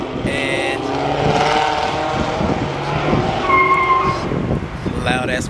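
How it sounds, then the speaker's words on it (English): A loud motorcycle roars past close by, its engine note rising and falling steadily through the whole stretch, with tire-like squeals and a person talking over it. "loud ass motorcycle."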